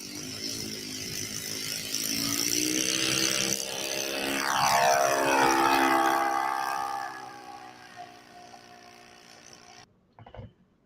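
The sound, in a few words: radio-controlled model airplane flying overhead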